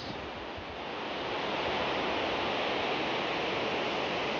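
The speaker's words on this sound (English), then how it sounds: "the volume of water just increased, which makes this spectacular scenery, cascading water through the rocks." Water from Shannon Falls, a 335-metre waterfall in Squamish, British Columbia, cascades over rocks in a broad, steady roar that swells during the first second and a half and then holds loud and constant.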